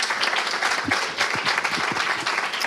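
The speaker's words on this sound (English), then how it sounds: "Can we make that round of applause more?" A loud, sustained round of applause fills a university hall after a religious talk by a visiting minister, with dense crowd clapping and a few louder claps and cheers near the front.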